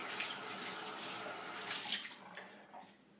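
Tap water runs in a soft, steady hiss while a shaving brush is wetted under it, fairly faint and close, with slight splashing changes near the end.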